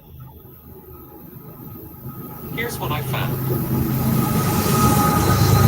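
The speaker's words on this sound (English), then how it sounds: "Here comes a train." A train rolls past nearby, its rumble swelling steadily louder with brief wheel squeals, while a person speaks briefly over it.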